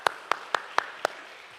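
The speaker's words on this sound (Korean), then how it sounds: "박수 한번 해주시기 바라겠습니다" Clapping in a Silicon Valley Korean Presbyterian church service greets a guest preacher: five crisp, evenly spaced claps in a quick, steady rhythm, fairly close, then a quiet room.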